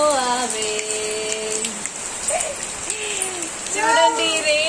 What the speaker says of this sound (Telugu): చూడండి రెయిన్ ఎలా వస్తుందో